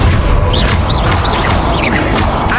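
A Confringo blasting curse explodes in the Hogwarts Legacy video game, a dense, roaring burst of rumbling noise that holds loud and unbroken throughout, with faint whooshing flourishes layered on top.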